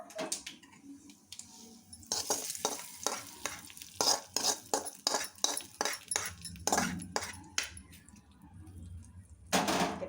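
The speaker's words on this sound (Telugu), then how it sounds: "ఇదిగోండి పోపు ఇంకా" Spices for tempering a coriander chutney crackle and sputter in hot oil while a spoon scrapes and stirs the pan in quick repeated strokes, close by.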